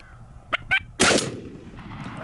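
A single shotgun blast fired at a wild turkey during a spring hunt in western New York, a sharp loud boom with a short outdoor tail, preceded by a couple of faint bird calls.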